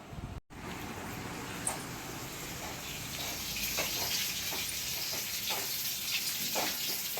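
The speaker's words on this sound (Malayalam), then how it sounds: "മീൻ കടുക് താളിക്കുകയാണ്" Mustard seeds tempering for a fish dish in hot oil, giving a steady close sizzle and crackle with a few sharp pops throughout, and no talking.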